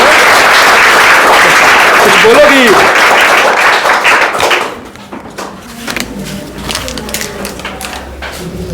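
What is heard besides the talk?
audience clapping and applause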